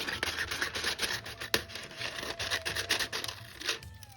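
Scissors snip and rustle through a plastic junk mail envelope up close, with rapid crinkly cuts and scraping in an uneven rhythm and no talking.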